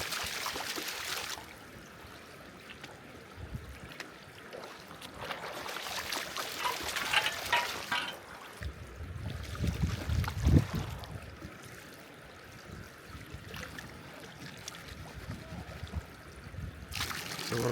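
Water washes and trickles through a gold pan during fossicking at a river ford, a steady close swishing and dribbling with surges of heavier sloshing and no talking.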